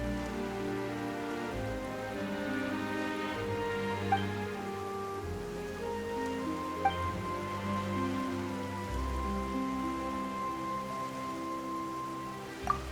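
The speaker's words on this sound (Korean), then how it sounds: "갑자기 비가 오네." Rain falls steadily in a fantasy video game set near an old fortress, a soft continuous patter sitting beneath sustained musical tones, with a few faint isolated drips and no voices.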